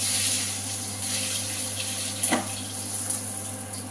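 Potatoes frying in hot oil for a chicken korma, a steady broadband hiss with a faint crackle and a brief sharper burst partway through, no voices.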